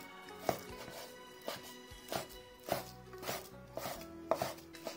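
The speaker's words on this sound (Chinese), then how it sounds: "再切成小肉丁，" A knife on a board chops meat into small cubes for bun filling, giving a steady series of sharp, close taps, about one or two per second, with no voices.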